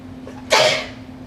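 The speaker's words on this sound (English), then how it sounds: "I'm getting ready to sneeze." A single sharp human sneeze rings out close and loud, a short breathy wind-up leading into an explosive burst that fades quickly into room quiet.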